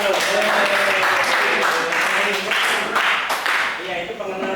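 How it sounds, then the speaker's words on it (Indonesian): Students in a vocational school classroom clap their hands together in a short, lively burst, with voices chattering over the clapping before it tapers off. "Tepuk dulu."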